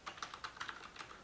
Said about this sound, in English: Type it in and press return.